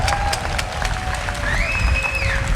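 A rally crowd in San Jose supporting the Amah Mutsun's Juristac cause claps and cheers steadily, a dense wash of applause with whoops and a thin whistle-like tone rising over it throughout.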